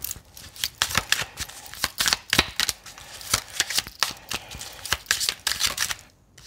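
Playing cards shuffled and drawn by hand produce a close series of crisp flicks and snaps, irregular bursts of riffling with short pauses between them.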